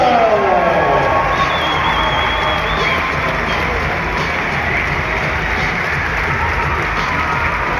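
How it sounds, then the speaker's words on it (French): Arena crowd at a Pro B basketball game between Vichy Clermont and Rouen, loud sustained applause and cheering with a booming announcer's voice heard at the start, continuous crowd roar throughout. "Je vous demande d'applaudir Quinton Booker."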